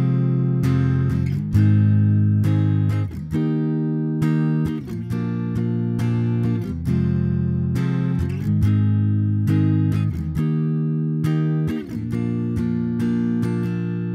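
Electric guitar strumming the verse chords of a song, steady loud down-and-up strums through a sequence of chord changes, clear and alone for about fourteen seconds.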